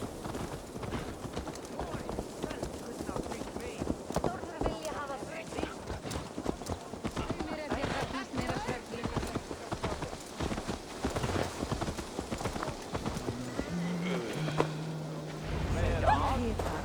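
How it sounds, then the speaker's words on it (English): Horse hooves clip-clopping while riding in the video game Assassin's Creed Valhalla, a steady rhythmic trot under game music and ambience, with a brief low thump near the end. "Let's return the horse."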